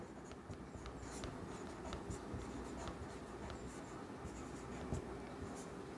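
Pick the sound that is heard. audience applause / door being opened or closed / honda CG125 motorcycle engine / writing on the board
writing on the board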